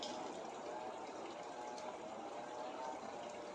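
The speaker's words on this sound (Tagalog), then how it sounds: "Sasalok kasi kami ng tubig dito." Water is scooped into a water jug on an island in Eastern Samar, making a continuous faint gushing, splashing wash that stays steady throughout with no talk.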